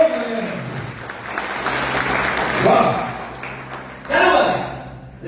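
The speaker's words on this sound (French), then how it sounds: "Oui, je vais applaudir là." Church congregation applauding at a service, a swell of clapping under a speaker's voice with a second burst of applause toward the end.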